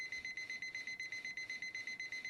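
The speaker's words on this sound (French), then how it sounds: "6h15, mon réveil sonne. On dirait un micro-ondes en colère." Alarm clock going off at dawn, a rapid, steady train of shrill electronic beeps pulsing about six times per second, fairly faint and heard alone without any talk.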